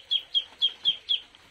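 Wet ducks in a cage give five evenly spaced, clipped calls in a steady rhythm, close and fairly quiet, with no talk over them.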